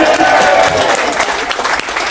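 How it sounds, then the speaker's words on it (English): Audience applause from a crowd gathered for an onboard cooking show on a cruise ship, steady dense clapping sustained throughout at a loud, even level. "that's A round of applause for the middle side."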